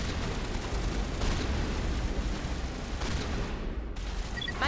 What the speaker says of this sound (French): Manova essuie des tirs croisés.